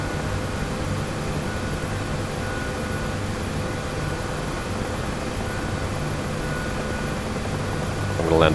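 Steady broadband engine drone of a jet taxiing on the ground in the DCS combat flight simulator, constant and unchanging throughout, with a faint tonal whine and a brief swell at the very end.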